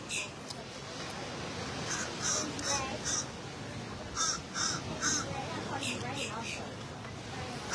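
Crows cawing in repeated short harsh bursts, in clusters of two or three calls, moderately near over a steady outdoor wash of wind or surf at the sea, with people talking faintly underneath.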